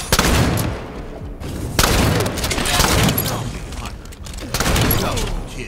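Shotgun gunfire in Halo 5 infection multiplayer: several loud, heavy blasts in quick succession with game effects between them, and a player's voice talking over the action.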